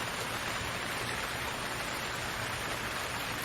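Dense, even rainfall hisses in a continuous, unvarying wash, used as a sound design layer for a cinematic 3D scene, with steady broadband patter and no voices over it.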